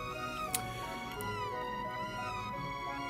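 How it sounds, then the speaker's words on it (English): A cat meows in Chrono Trigger, a few short game-style meows over steady background music, fairly soft and close. "You can pet the cat"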